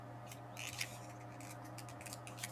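Scissors snipping through paper card while making a Christmas tree card, a few quiet crisp cuts scattered over a steady low background hum.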